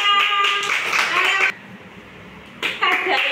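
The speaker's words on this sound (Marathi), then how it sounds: "टाळ्या वाजवा" Children clapping their hands during a colour game, bursts of clapping with kids' voices mixed in, a short lull in the middle, then the clapping and voices resume.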